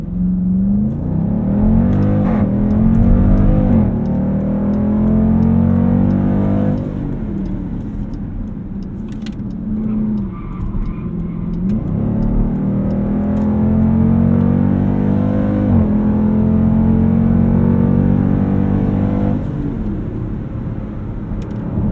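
A 2020 Dodge Durango SRT launches hard from a standstill, its loud engine roar rising in pitch through repeated gear changes as it accelerates continuously, heard close from inside the cabin with no talking.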